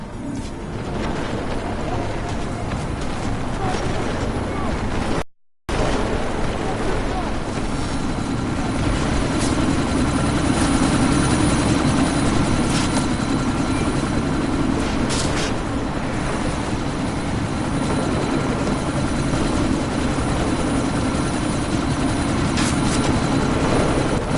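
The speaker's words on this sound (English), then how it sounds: "That chopper's about to take off!" Helicopter in the video game Deus Ex Mankind Divided spooling up for takeoff, a loud steady rotor and engine roar filling the whole scene, with a brief cut to silence partway through before the drone resumes unchanged.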